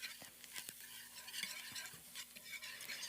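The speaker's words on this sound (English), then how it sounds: "you want to whisk that around until all of that flour gets absorbed by the fat that's in your pan" Whisk scraping and stirring flour into melted butter in a pan, a steady soft hiss broken by faint clicks of metal against the pan, quiet and close with no talking.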